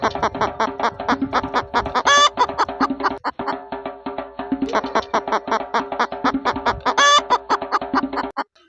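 A chicken clucks in quick, loud, rhythmic bursts that repeat in a regular pattern, with a couple of sharper squawks, close and prominent.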